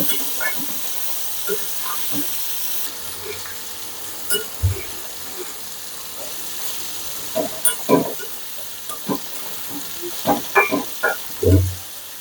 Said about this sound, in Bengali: আমি বেশ কিছুক্ষণ ধরে ভাজবো